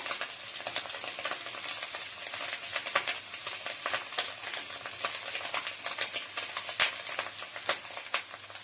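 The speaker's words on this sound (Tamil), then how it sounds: "நெக்ஸ்ட் ரைஸ் சேர்த்துக்கிறேன்." Rice tossed into a hot pan for home-made chicken fried rice, with a steady dense sizzle and crackle of frying and some stirring scrapes throughout, no talk.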